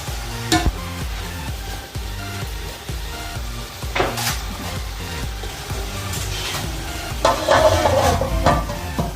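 Lauki bhujia (bottle gourd) left to cook on a low flame, with a steady soft sizzle and occasional stirring scrapes and utensil knocks against the pan, fairly close and continuous.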